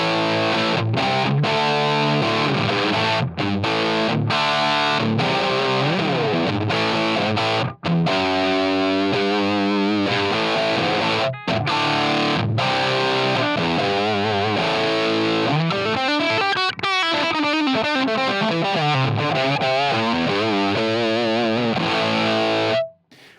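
A heavily distorted electric guitar through a Line 6 HX Stomp amp model with a 4x12 Greenback cabinet and 57 dynamic mic plays loud riffs with chugging palm-muted chords, bends and sustained notes, continuous and aggressive before cutting off.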